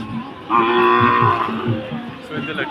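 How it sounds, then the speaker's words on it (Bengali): Haryana breed cattle at a crowded Eid cattle market in Brahmanbaria, with one loud, sustained, nearby moo over a murmur of background crowd noise. "এটি সব ইন্ডিয়ার গরু হরিয়ানা"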